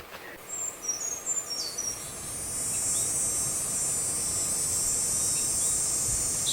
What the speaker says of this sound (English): Cicadas and some birds singing in the background.